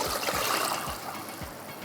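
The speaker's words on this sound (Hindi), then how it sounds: "अब आपने इसका पानी सारा ड्रेन कर लेना है।" Water drains from a batch of fresh green peas in a kitchen, a close, continuous trickling and splashing pour with a few soft lower gurgles over roughly two seconds, with no talking.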